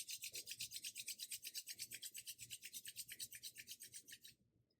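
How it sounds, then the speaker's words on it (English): Palms rubbing briskly together during a yoga and breathwork session, a fast steady swishing rhythm of about forty strokes, close and soft, fading out at the end with no talking. "Rubbing your hands together."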